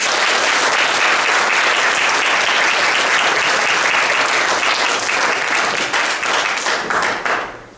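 A church congregation at a regional revival gathering bursts into loud, sustained applause, dense clapping from many hands filling the room before tapering off at the very end.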